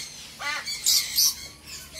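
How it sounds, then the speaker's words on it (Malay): A loud bird calls several times in quick, harsh chirps and squawks, close by and sounding alone, at a bird farm keeping macaws and sun conures. "Ni paling bising ni burung ni."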